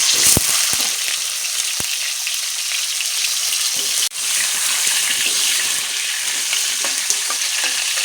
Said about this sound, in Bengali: এখন আমি আলুগুলো ভাজা করে নেব, সুন্দর করে লাল লাল করে ভাজা করে নেব